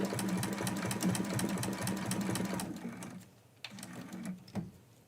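A sewing machine stitches Christmas quilt pieces in a fast, even mechanical rhythm up close, pauses briefly partway through, then resumes in shorter bursts.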